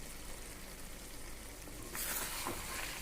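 Chicken pieces sizzling in oil in a pan as a Punjabi-style chicken curry cooks, with a steady, quiet fry that swells briefly louder when the meat is stirred near the end, no voices.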